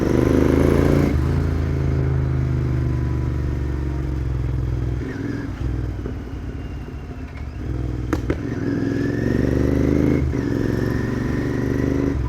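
A tuned Interceptor 650 motorcycle engine drones and revs up and down, with crackling pops from the exhaust as the revs drop below 2000 rpm, close and loud throughout.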